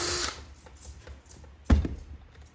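Power drill boring through a deer antler tine, a hard outer shell giving way to a porous center; faint buzzing and scraping bursts at close range, ending in a sharp thump.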